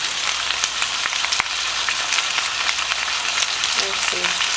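Potatoes and onions frying in a pan for Southern fried potatoes, a steady, close hiss and crackle of sizzling oil that runs the whole time, with faint scraping from stirring.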